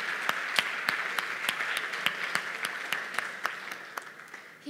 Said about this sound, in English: Let's give a round of applause for James.